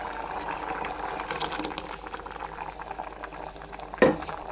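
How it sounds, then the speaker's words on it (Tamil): A pot of green pea gravy bubbles steadily at a low simmer, soft popping and hissing throughout, with one sharper clink near the end. "கிரேவி ஃபுல்லாக நல்லா கொதிக்குதுங்க."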